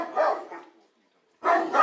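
A Pakistani Bully Kutta named Tiger, trained for wild boar hunting, gives two loud, deep barks close by, separated by a brief pause.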